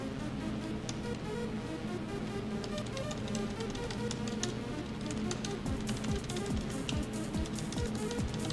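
Continuous typing on a computer keyboard while entering a program in a z/OS session, a dense run of quick close key clicks over a steady background hum, with no talking.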